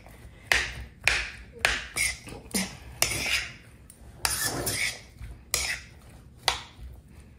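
Food being mixed with cutlery in a dish after salt is added: about a dozen sharp metallic clinks and taps in an irregular rhythm, close and fairly loud, with no talking.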